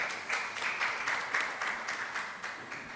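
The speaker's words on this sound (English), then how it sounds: "Round of applause for him as well." A short round of applause at a university convocation ceremony, rhythmic clapping from a group heard somewhat distant and moderately quiet, continuing evenly throughout.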